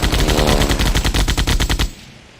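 A biplane machine gun in the World War I flight game Sid Meier's Ace Patrol fires one loud, rapid burst of evenly spaced shots that cuts off and leaves a short fading tail.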